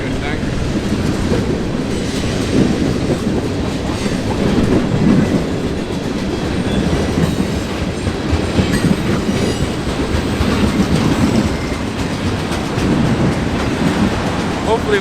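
A long freight train hauling auto racks rolls past Paris Junction in Ontario, a loud continuous rumble of wheels with clickety-clack over rail joints, close by and unbroken for the whole stretch.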